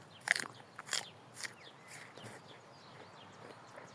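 Bites into a crisp, juicy, slightly sour apple, a few sharp crunches spaced irregularly and close, followed by softer chewing crackles, no talking.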